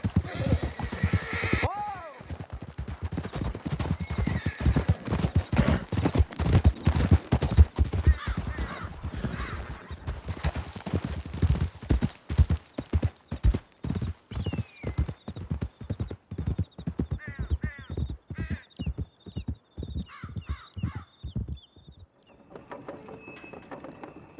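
Rapid hoofbeats of horses galloping through a canyon in the western game Red Dead Redemption 2, close and loud with neighing, shouted voices, fading to quieter clopping and ambient insects at the end.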